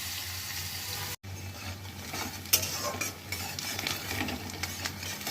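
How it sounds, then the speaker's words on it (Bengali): Chopped onions fry in a pan with bay leaf, garam masala, black cumin and peppercorns, giving a close, continuous sizzle with frequent stirring clatter and one brief silent gap. "আমরা হালকা লাল করে ভেজে নিলাম।"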